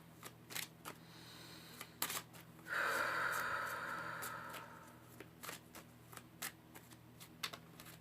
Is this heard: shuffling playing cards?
yes